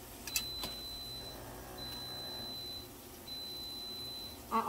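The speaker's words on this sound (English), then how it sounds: "Hear that beeping? That's my bread." A bread machine gives three long, thin electronic beeps at a steady pace when the bread is done. They sound quiet and indoors over a low background hum.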